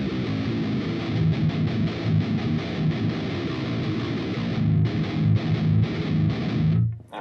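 A distorted electric guitar with its bass cut plays a steady, tight riff of chugging strummed chords. The playing is loud and continuous, breaks off briefly near five seconds, then resumes and stops abruptly at the end.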